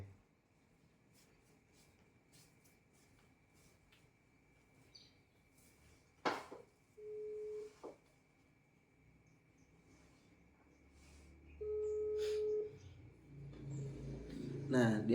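A telephone call rings out while waiting for an answer, with two long ringback tones a few seconds apart over a quiet room with faint clicks and background noise.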